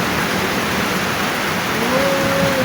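Steady rain falling outdoors, a constant hiss of water with no breaks, moderately loud, with a faint tonal hum rising briefly near the end.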